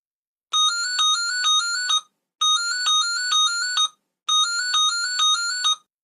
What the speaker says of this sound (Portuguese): O telefone toca do outro lado da linha.